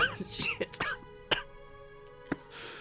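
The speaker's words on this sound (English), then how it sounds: "Oh, why do I cough every time I'm trying to record lately?" A few sharp coughs and throat clearing from a man about to record a game patch overview, close to the microphone, followed by a short quiet gap and one last cough.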